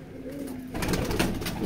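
A steady low coo from a Rampuri pigeon in a Howrah loft is cut off by a burst of close rustling and flapping that carries on to the end.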